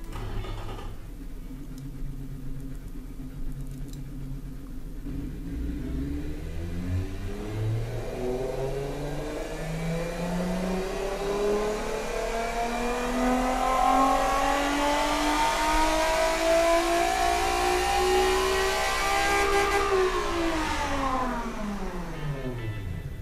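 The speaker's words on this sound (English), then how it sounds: "So, that's a proper good old V6 sound for you." A V6 engine in a Ferrari Dino 246 build, made in the Automation car-design game with no mufflers, revs in repeated rising sweeps that climb through the gears to a high wail, then winds back down, with no talking.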